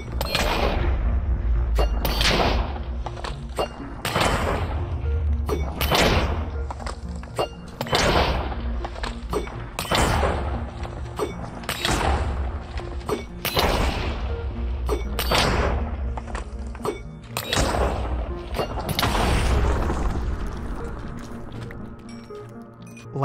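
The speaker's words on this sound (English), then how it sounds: "when you melee mobs with this ability selected, you'll create an explosion in front of you." Repeated explosions from a melee ability in Minecraft, a 1.21 data pack, go off in loud, booming bursts at a steady rhythm through the whole stretch, each a thudding blast with a crackling tail.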